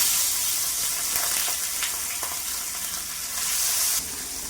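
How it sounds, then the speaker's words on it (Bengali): Small turmeric-and-salt-rubbed puti fish fry in hot oil in a kadai, giving a continuous loud crackling sizzle with a few sharper pops and a slight surge near the end; no voices. "মাছটা লালচে লালচে করে ভেজে নিব।"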